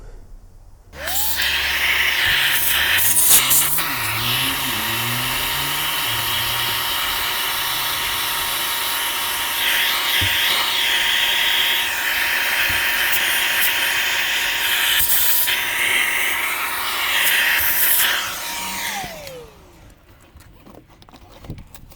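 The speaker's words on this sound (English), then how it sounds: "vacuum down in the areas just to get rid of any little bits and bobs" A vacuum cleaner starts up, runs with a loud steady whine and roar for most of the stretch, then winds down near the end.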